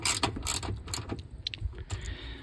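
Ratcheting socket wrench tightening a bolt on LED grille lights on a Toyota RAV4, a close run of quick mechanical clicks and rattles in bursts, with no talking.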